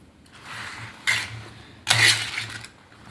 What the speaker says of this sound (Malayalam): നന്നായിട്ട് നമുക്ക് ഇളക്കി കൊടുക്കാം